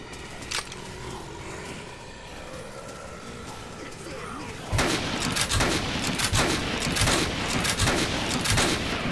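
Machine-gun fire from a convicts' jeep in the video game Dead Rising: scattered shots at first, then dense rapid bursts of gunfire dominating the second half.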